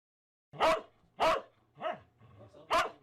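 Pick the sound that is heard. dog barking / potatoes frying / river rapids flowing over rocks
dog barking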